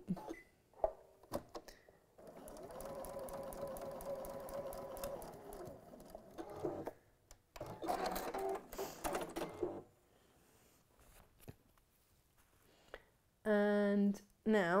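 A sewing machine stitches along a pen-marked line in a crafting session, running in a steady whirring burst of a few seconds, with a voice talking before and after and short bursts of other sound near the end.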